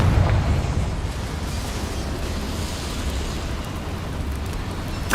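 A loud explosion from the Confringo spell in the video game Hogwarts Legacy gives a sudden burst, then a long rumbling roar that holds steady for several seconds, with no talking.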